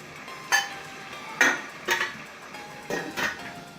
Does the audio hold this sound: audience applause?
no